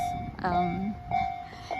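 A Japanese railway crossing signal rings with a steady, repeating electronic ding in a quiet residential street. A person talks briefly over the ringing.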